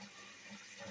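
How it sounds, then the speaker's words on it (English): Water running on low from a Base Camp portable shower, a faint steady trickle and hiss with no talking. "if I want to run a little bit of this water right here on low"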